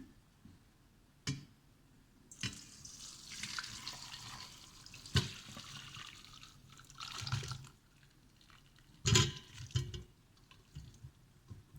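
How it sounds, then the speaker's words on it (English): Chicken stock poured in uneven bursts through a strainer into a bowl, with splashing and trickling that starts, pauses and surges again. "I have a strainer to catch any of the ingredients. I'm just going to pour through."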